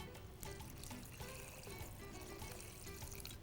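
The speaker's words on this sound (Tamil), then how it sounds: "தண்ணி எடுத்துட்டு அந்த துவரம்பருப்பு இதில் போடலாம். இதுக்கு சுமார் ஒரு 4 கிளாஸ் தண்ணி விட்டுடலாம்." Water is poured over toor dal in a cooking pot, a continuous soft splashing, trickling flow that is faint and steady throughout, with no talking over it.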